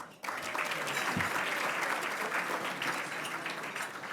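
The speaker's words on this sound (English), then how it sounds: "Big round of applause for our serving staff" Applause from a luncheon crowd at a Newport Beach Chamber of Commerce event, rising abruptly and holding as a dense, moderately quiet wash of clapping before tapering slightly.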